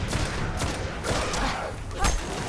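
Dense, continuous gunfire rattles from the video game Destiny, a steady loud barrage with a sharper burst near the end.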